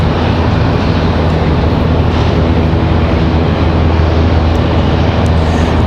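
A JetBlue jet departing Raleigh Durham airport for Boston, heard as a loud, continuous broadband engine roar that holds steady and close for the whole stretch.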